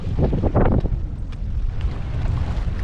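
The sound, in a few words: wind by the sea in Zadar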